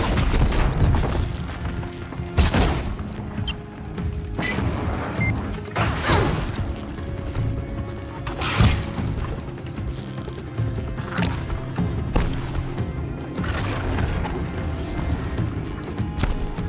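Grenade explosions in the video game Horizon, a string of heavy booms and crashes at irregular intervals over continuous game action noise and rumble.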